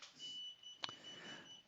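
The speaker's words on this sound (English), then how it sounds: "you're going to hear some beeping in the background because the alarm is going off on the controller" A KO Moto electric bike controller alarm sounds a steady high-pitched electronic tone over faint background hiss, with a single short click partway through.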